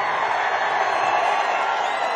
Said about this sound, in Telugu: గట్టిగా చప్పట్లు కొట్టి హర్షాన్ని,